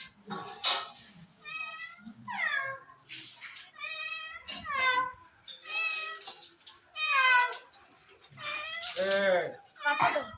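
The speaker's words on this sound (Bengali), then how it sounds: "শুনতে পেয়েছি আওয়াজ। আমাদের বাড়িতে একটা বিড়াল এসেছে" A cat that has wandered into a home meows repeatedly, about eight drawn-out, rising and falling cries spread evenly, close and clear, with faint room noise between them.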